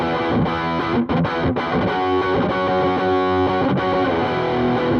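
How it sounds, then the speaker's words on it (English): Heavy distorted electric guitar tone through a Nepomuk Big Muk overdrive pedal, thick sustained chords ringing loud and dense with a few brief dips between strums, no talking. "You can also use this to get some very heavy distorted tones."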